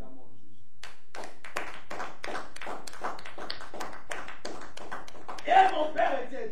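A church congregation claps in praise of Jesus, a run of about a dozen sharp, evenly spaced hand claps in a regular rhythm, with a few voices rising near the end.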